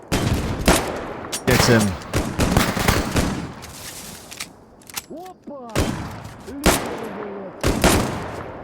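Gunfire in S.T.A.L.K.E.R. Gamma comes in irregular bursts of sharp shots and short volleys, some loud and close, others lighter, with brief gaps and a voice talking among them.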